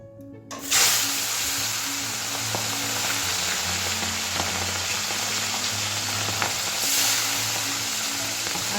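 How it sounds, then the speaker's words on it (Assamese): Fish dropped into hot oil in a wok bursts into a loud sizzle that holds steady with scattered pops and crackles, flaring again near the end, while a low hum runs underneath. "এতিয়া মই ইয়াতে মাছখিনি ভাজিবলৈ দি দিম"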